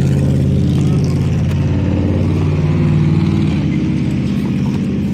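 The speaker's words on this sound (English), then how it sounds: "That truck wasn't so loud." A truck engine rumbles low and heavy as it passes, a loud, steady drone holding throughout with a slight swell midway.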